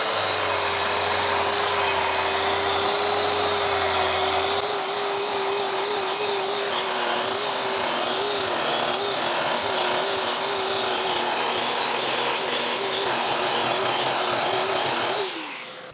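Power tool stripping paint off a plastered wall with a vacuum attached, running as a steady, loud whirring grind with a continuous drone that holds level for most of the stretch before cutting off near the end.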